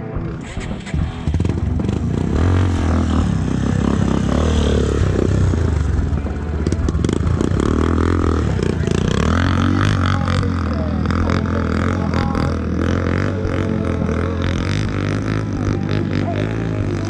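Motorcycle engine on a dirt trail, loud and close, idling and revving unevenly with rattling clatter, while people talk over it throughout.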